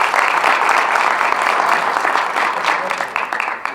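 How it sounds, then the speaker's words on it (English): Audience applause for a panel at an NCAIA community event, dense and steady clapping that fills the room, fairly loud throughout and tapering slightly near the end. "Let's give a round of applause for the panel."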